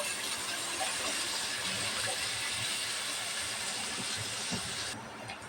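Chopped onions and two dried red chillies fry in hot oil for khichuri, producing a steady, even hiss of moderate loudness with faint crackles and no talking.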